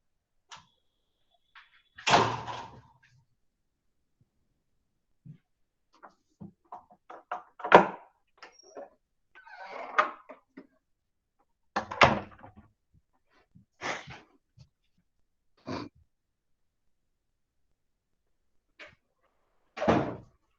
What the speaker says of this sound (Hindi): ये दरवाजा बंद कर लेना जरा।